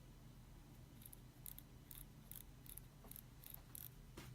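A dead Dye Dam box rotor motor turns with a series of small, sharp, faint clicks at uneven intervals. The clicks are close and quiet over a low background hum.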